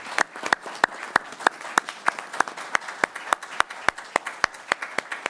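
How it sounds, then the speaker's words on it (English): An audience at a city commission meeting applauds two citizens, with sharp, distinct claps from what sounds like a modest crowd, steady and close for several seconds with no talking. "these are two citizens that I think deserve a great hand of applause from our crowd here"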